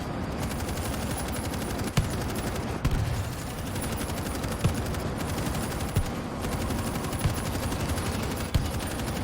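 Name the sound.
gunfire in video game World War Z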